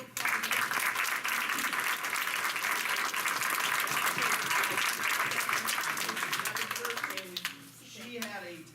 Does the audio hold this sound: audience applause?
yes